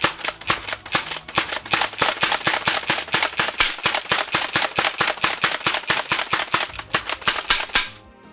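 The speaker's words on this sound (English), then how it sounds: "I'm going to hold down the firing trigger here, and we're just going to prime it back and forward" An Adventure Force Villainator foam dart blaster slam-fired by holding the trigger while pumping the prime back and forth: a fast, even string of roughly thirty sharp, loud cracks over about eight seconds, then it stops.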